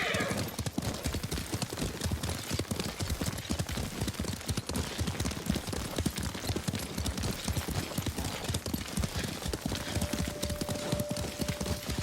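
Horse hooves galloping steadily in Ghost of Tsushima, a rapid, continuous clip-clop rhythm close by, with occasional whinnies, a brief tonal note late on, and no talking.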